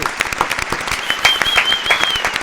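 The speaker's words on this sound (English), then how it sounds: "Round of applause for Daniel." A small group claps for a podcast guest in a studio, sharp close hand claps in a quick irregular rhythm with a few voices and a whistle-like tone mixed in.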